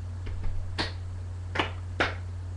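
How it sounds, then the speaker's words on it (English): Sharp hand claps for the Saman dance, a few faint taps followed by three crisp, close claps in an uneven rhythm, each standing alone over a steady low electrical hum. "then clap 3 times, but in this rhythm"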